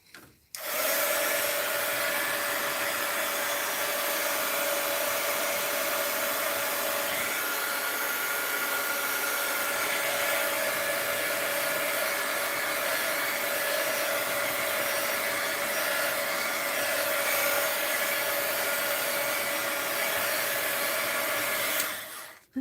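Hair dryer blowing over an art journal page, a loud steady whooshing whine that switches on abruptly, runs unbroken for about twenty seconds, then cuts off.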